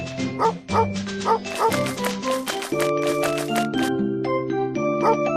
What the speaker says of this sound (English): What has the search dog found?